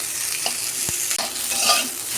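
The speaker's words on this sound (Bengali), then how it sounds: "আমি উচ্ছে আর পেঁয়াজ ভাজা ভাজা করে নিয়েছি" Bitter gourd slices and onions fry in oil in a pan, a close, continuous sizzle with a couple of stirring scrapes and clicks, no voices.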